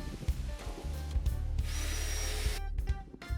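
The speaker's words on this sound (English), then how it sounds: "now I'm going to attach these to the bearers with the hex screws." Power drill driving hex screws through painted timber noggins into wooden decking bearers, a close, loud whirring drive that rises into a steady spin and then cuts off, with no talking.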